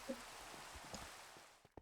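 Steady rain in a blocky multiplayer survival game, a soft continuous hiss of falling drops heard faintly throughout, with a few small clicks and taps near the end.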